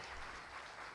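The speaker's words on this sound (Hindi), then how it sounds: "एक बार जोरदार तालियां हो जाए आप सभी के लिए" An audience at an award ceremony breaks into applause, a brief, even patter of many hands heard fairly faintly and without speech.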